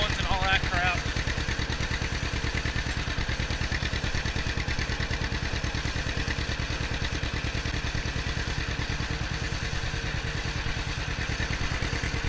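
A 1954 John Deere Model 60 tractor engine runs steadily throughout, a close, loud, rhythmic low chugging with clattering mechanical noise on top.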